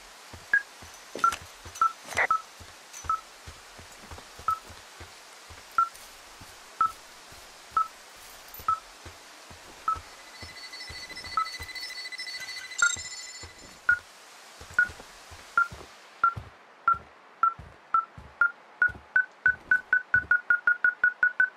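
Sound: beeping tracking device in the video game Firewatch

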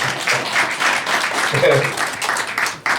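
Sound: audience applause at press conference

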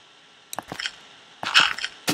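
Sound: placing a dirt block in a video game

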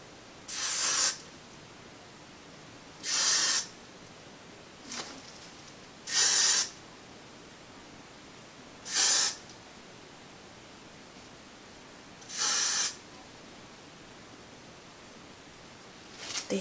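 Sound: spraying Got2b glue spray on a wig hairline

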